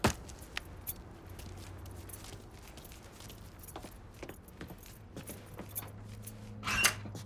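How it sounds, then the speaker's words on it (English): In the video game Mafia III, a set of truck keys jingles as it is picked up, bringing several light metallic jangles and clinks over a low rumbling backdrop, with a louder rattle near the end. "Lincoln, pick up the keys."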